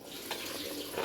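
Water pours steadily into a cooking pot of rice for chicken biryani, a soft, continuous splashing rush with no talking.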